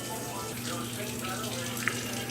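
Water running steadily from a kitchen tap during food preparation, a continuous broadband hiss with a faint low hum in the background.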